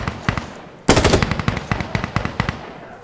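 Rapid automatic gunfire from the shooter game Insurgency Sandstorm rattles loudly in a dense, steady burst after a brief quieter stretch of shots.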